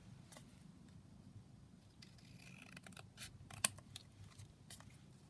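Scissors snip through a paper tag in a quiet room, giving several soft crisp cuts with faint rustling, close and fairly quiet, with no talk.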